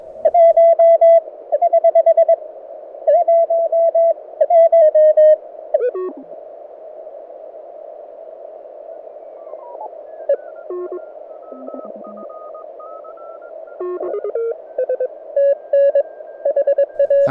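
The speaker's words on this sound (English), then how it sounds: "just tapping it to search for and tune in on signals" A Mountain Topper MTR3B radio tuning across Morse signals: bursts of beeping tones come and go, with sweeping whistles and pitch shifts between steady keyed dits and dahs.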